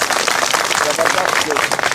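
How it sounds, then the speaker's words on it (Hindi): A protest crowd of job candidates claps steadily and densely at a selection board demonstration, with sustained applause filling the moment and voices mixed in. "भाई के जोश के लिए एक बार बेहतरीन ताली बजाइए।"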